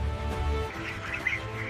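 Ducks quack inside a fully automated mega hatchery, several nasal calls overlapping near and loud above a low mechanical hum, with no talking.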